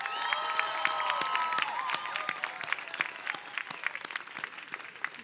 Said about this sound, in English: Let's give the class of 2023 a big round of applause.